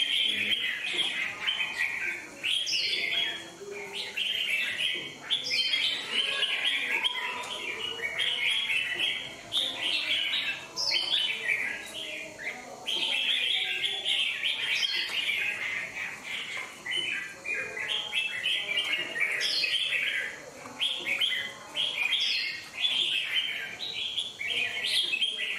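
A red-whiskered bulbul sings repeated bright, warbling phrases close by. Short bursts recur every few seconds over a quiet background for the whole stretch.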